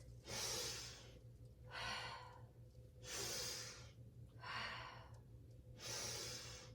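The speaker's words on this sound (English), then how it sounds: "Big breaths." Deep, slow breaths during a yoga arm-windmill flow, five long airy inhales and exhales alternating at a steady rhythm, close and fairly loud over a low constant hum.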